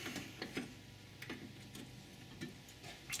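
A ratchet clicks in short bursts while loosening the bolts on a car's brake master cylinder, the ticks quiet and close with brief pauses between strokes.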